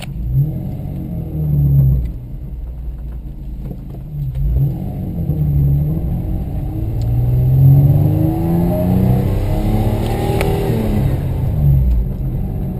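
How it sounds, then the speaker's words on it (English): An Isuzu Trooper engine runs close by and revs up, its low drone rising and falling in pitch as it accelerates, steady and loud throughout with no talk. "So it does drive quite normally now. Starts up just fine."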